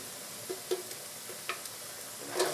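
Garlic frying in a pan for a beef stir fry, with a low steady sizzle broken by a few soft scraping stirs and a louder stir near the end.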